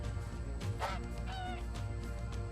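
Dodo birds in the video game Ark: Survival Evolved give several short, honking, goose-like calls scattered over a steady game soundscape at moderate level.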